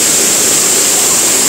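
The Twin Waterfalls at Dimiao, Bohol, pour with a loud, steady rushing roar that fills the whole moment, no voices over it.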